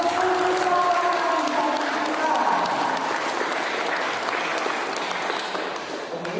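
An audience at a school student council (MPK and OSIS) candidate question-and-answer debate claps steadily and loudly throughout, a dense sustained round of applause with a crowd murmur and some voices mixed in.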